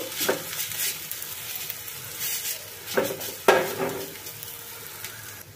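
A watermelon rind fritter fries in a pan over a low flame, giving a steady close sizzle broken by a few sharp scraping stirs and spatula clinks against the pan.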